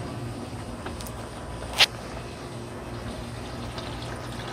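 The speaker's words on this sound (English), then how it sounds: "So I'm going to turn the pump on." A solar-powered pump pushes water down a DIY poop tube and bucket sluice, giving a steady, soft rushing flow with one brief sharp click partway through.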